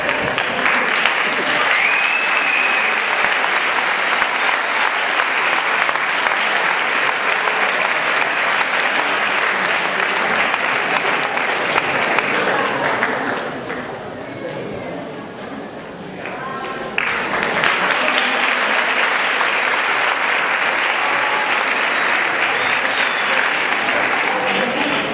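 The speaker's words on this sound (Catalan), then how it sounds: "Aplaudiment." Sustained applause from an audience at a school graduation ceremony, dense and steady clapping that dips briefly in the middle before swelling back to full strength.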